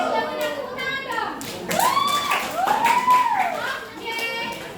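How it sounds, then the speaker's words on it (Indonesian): A classroom of students claps briefly and unevenly. Children's voices and chatter rise over the claps. "tepuk tangan dong"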